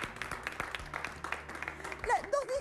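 A television studio audience claps briefly while a voice talks over and after the applause, with speech rising toward the end.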